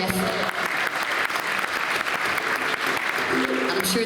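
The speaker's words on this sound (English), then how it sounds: "give them a round of applause there, Jeff." A live concert audience in Milwaukee breaks into steady, dense applause that carries on without a pause, a bright wash of many hands clapping at once.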